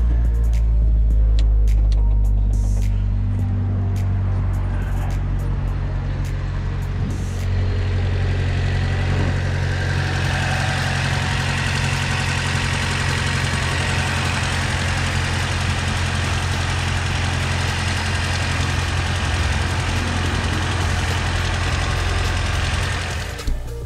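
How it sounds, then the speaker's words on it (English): A Honda D15 D-series engine idles close up, a loud, steady mechanical drone with a squeaking fan belt running through it the whole time. "Ignore that fan belt squeak"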